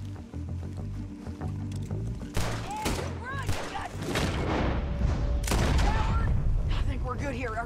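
Volleys of gunfire ring out in the video game Red Dead Redemption 2, with rapid shots and loud booms over a busy mix of game sound, while people talk intermittently throughout.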